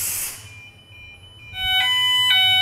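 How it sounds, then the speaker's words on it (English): A Nittan fire alarm sounder goes off after its detector is set off by steam, rising in as a steady electronic tone with pulsing beeps over a faint background hiss. "You can hear the alarm operating now."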